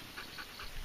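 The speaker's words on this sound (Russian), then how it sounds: "сегодня моим помощником будет Малинуа Трай, возраст год и месяц" A one-year-old Belgian Malinois pants softly during an obedience training session, giving a few quick, evenly spaced breaths in a short, faint burst with no talk.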